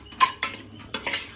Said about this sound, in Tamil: சும்மா ஒரு கிளறி விட்டேன்.